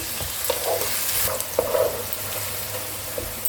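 Sliced onions fry in a pan for mutton curry, a steady broadband sizzle with occasional stirring scrapes and clicks, close and continuous with no talking.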